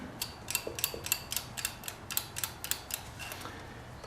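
A jam nut being threaded onto the clutch cable of a Honda VTX 1300 motorcycle, heard as a quick run of close, crisp metallic clicks and ticks in an irregular ratcheting rhythm.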